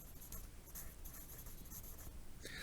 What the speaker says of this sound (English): I'm going to write out the word.